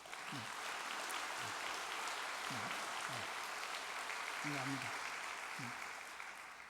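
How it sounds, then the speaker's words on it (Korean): An audience at a ceremony applauds. The clapping is faint and steady and lasts several seconds, while someone speaks briefly over it. "박수 한번 보내드리겠습니다"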